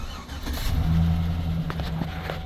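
A 2007-2013 Chevy truck with a bypassed fuel pump control module cranks and catches, its engine settling into a steady, close running rumble with no talk over it.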